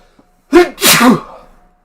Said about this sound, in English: I'm gonna sneeze, pardon me